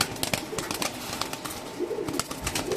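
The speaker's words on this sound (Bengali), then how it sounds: "এখানে আছে একটা কবুতর" Low coos from racing pigeons kept for sale, with a couple of soft rolling calls standing out from steady rustle and scattered clicks in the loft.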